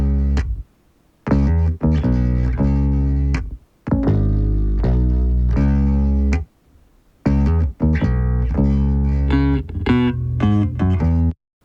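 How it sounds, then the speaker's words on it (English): A solo electric bass line, EQ'd and compressed, plays deep, sustained, full notes in phrases separated by brief silences, loud and close with no other instruments or voices. "So if I just call up the bass line on its own for now,"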